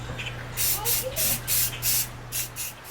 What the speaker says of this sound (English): spray paint this box until I get a good little puddle